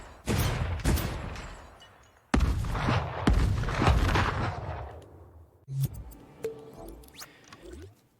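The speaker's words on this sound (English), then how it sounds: "If our rocket fly 3 seconds, it just explode." Rocket explosions in the video game Dreams: several loud, sharp blasts with rumbling tails, a couple of bursts close together followed by a smaller pop and fainter crackling debris.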